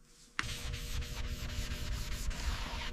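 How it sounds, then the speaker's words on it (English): Body filler on a damaged Porsche 911 GT3 RS panel being sanded by hand: a steady, close, continuous abrasive rasping with rhythmic back-and-forth strokes, starting abruptly after a brief quiet moment and continuing alone without talk. "Hours of sanding."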